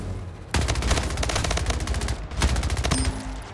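SMG in the Splitgate shooter firing long rapid automatic bursts, loud and close, with a brief pause between two sustained strings of shots.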